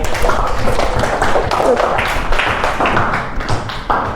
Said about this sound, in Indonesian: Beri tepuk tangan untuk Fadil